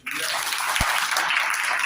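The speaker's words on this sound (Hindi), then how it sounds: "जोर से ताली बजाइए" A church congregation at a Christmas program applauds loudly and steadily, a dense wash of many hands clapping together without pause.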